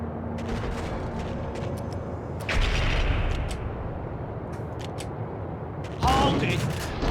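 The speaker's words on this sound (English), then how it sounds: "I feel like I'm just wasting all my Beretta ammo on these dudes" Beretta pistol gunfire in the 2001 PC video game Max Payne, scattered sharp shots and short volleys with echoing impacts at moderate loudness, two heavier bursts standing out.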